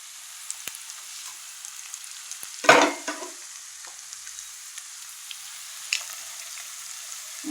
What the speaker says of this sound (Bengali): মশলাটা আগে দিয়ে দিলে হয় কি, মশলাটা তেলের উপরে ভাজা হয়ে যায়